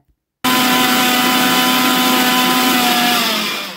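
A mixer grinder grinding capsicum chutney whirs loudly and steadily after a brief silence, a continuous high-pitched motor drone that holds for several seconds before tapering slightly at the end.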